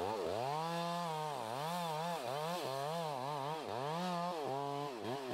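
A chainsaw cuts through a heavily leaning tree during felling. Its engine holds a loud, steady, close-up drone that bogs and revs in repeated dips as the chain bites into the wood.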